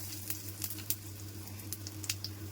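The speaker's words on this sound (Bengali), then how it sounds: "শুকনো লঙ্কা আর 5 ফোড়ন দিয়ে দিচ্ছি আর দিয়ে দিচ্ছি একটু হিং করে।" Dried red chillies and panch phoron spices sizzle faintly in hot oil, a soft crackle with scattered brief pops over a constant low electrical hum.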